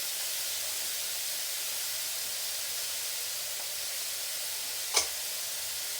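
Onion, celery and carrots frying in a pan for fried rice, a steady soft sizzle and hiss running throughout, with one brief sharper crackle near the end.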